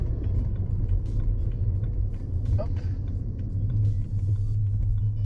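A BMW rumbles steadily with a deep, continuous engine drone as it pulls up and stops near the Nürburgring, while someone talks over it.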